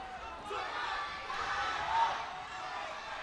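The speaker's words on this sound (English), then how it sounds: "the crowd are loving it" A crowd cheers and roars at a martial arts fight in Wuxi, a steady, distant wash of voices in a large arena with a slight swell midway.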